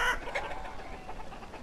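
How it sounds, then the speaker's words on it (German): Chickens in the village-building game Banished give clucking calls, a short burst of fowl sounds at the start and then softer clucks, moderately loud with no voices. "Hühner brauchen wir nicht."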